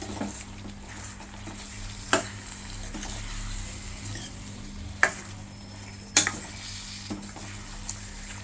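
Tomato meal maker curry with chili powder stirred in a pan, a low simmering sizzle with a few sharp clinks of a spoon against the metal, close and quiet.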